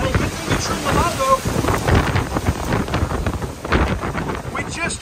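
Strong storm wind roars steadily against the microphone, a dense, loud rush with gusty swells throughout and no pause.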